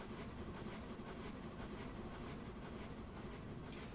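A train locomotive accelerates in a simulator game, giving a faint, steady rumble with rhythmic wheel clatter throughout.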